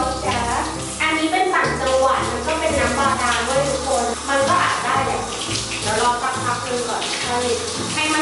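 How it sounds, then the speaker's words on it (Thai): Water gushes steadily from a tap as a cockatoo's bath is filled. The rush of running water is loud and close and continues for the whole stretch, with talking over it. "โอเคเปิดน้ำเลยค่ะ เทสน้ำก่อนนะจ๊ะ"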